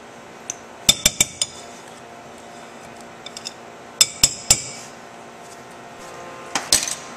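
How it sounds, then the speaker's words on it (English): Scone dough with butter is worked in a bowl, where a utensil strikes the bowl in sharp metallic clinks that come in small clusters separated by quiet gaps, close and fairly loud. "Now that I'm finished mixing the butter"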